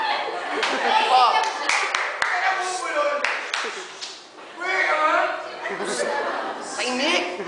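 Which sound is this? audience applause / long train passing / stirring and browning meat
audience applause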